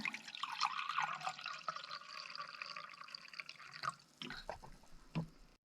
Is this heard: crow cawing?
no